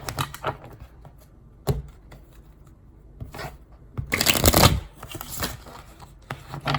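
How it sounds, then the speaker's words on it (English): Tarot cards being shuffled by hand, quick papery riffles and flicks close by, with sharp taps between them and one long, loud shuffle burst near the end. "I can't shuffle today. The cards won't shuffle."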